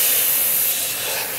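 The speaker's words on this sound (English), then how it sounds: "I'm just shaking this around and spraying" A SATAgraph 4 airbrush sprays cleaning fluid during cleaning, giving a continuous close, loud airy hiss that fades slightly partway through, with no voices.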